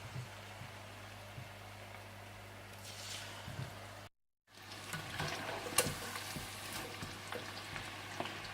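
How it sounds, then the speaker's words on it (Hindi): Chicken fingers deep frying in medium-hot oil, a steady soft crackle and sizzle running throughout with a brief gap midway and a few louder pops near the end, no talking. "डीप फ्राई कर लीजिएगा।"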